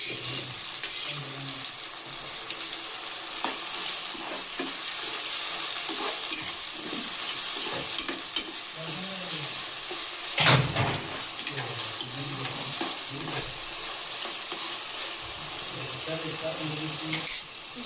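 Tomatoes with mint and fenugreek leaves sizzle and fry steadily in a pan for a North Karnataka methi muthia dish, with occasional scraping stirs and light clinks throughout, no talking.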